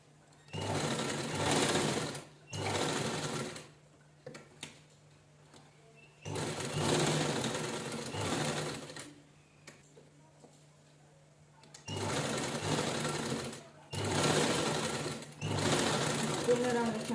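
A sewing machine stitches around old shirt fabric in close, loud bursts of running, each lasting a second or two, broken by short pauses between passes.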